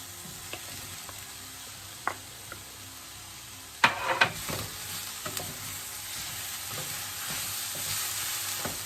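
Mushrooms tipped into a hot pan for beef pilau, giving a steady broadband fry with scattered crackles, a few sharp spoon or spatula knocks against the pan near the middle, and continuous sizzle afterward; no one speaks.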